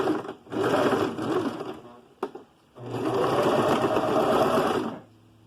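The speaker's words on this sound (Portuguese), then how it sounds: "antes eu vou passar uma costurinha aqui na lateral" Sewing machine stitching the side seam of soft-fabric pants for a two-year-old, running in two steady bursts with a short pause and a click between them, close and loud.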